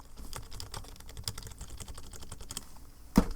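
Keys on a worn Razer mechanical keyboard are typed quickly, a dense run of soft, close clicks and clacks that ends in one sharper knock, with no voice over it.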